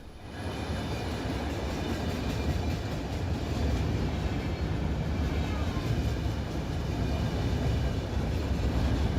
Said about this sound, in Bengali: প্রথম একটা যাত্রীবাহী ট্রেন যাচ্ছে